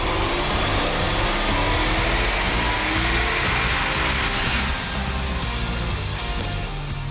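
A Dodge Challenger SRT8 runs on a dyno, its engine holding a loud, steady roar with a strong low rumble that eases slightly toward the end, close and with no voices.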